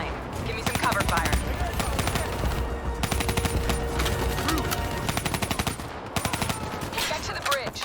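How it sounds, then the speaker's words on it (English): Sustained machine-gun cover fire in the video game Call of Duty: Black Ops 3, dense rapid bursts of automatic gunfire rattling almost without pause, loud and close over a busy battlefield mix with faint game voices underneath. "Give me some cover fire."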